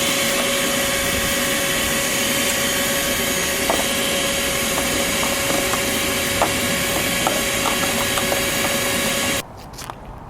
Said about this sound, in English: Vacuum that out too.